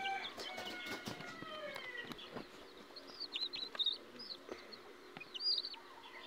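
Faint, scattered high chirps and peeps from a roughly three-week-old young chicken in a small backyard coop, with irregular short calls over quiet background noise.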